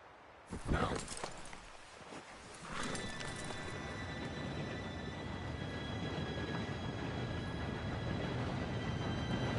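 A train approaches in the Red Dead Redemption 2 video game; after a few sharp knocks at the start, a steady rumbling roar builds and holds, with faint high tonal squeal lines above it.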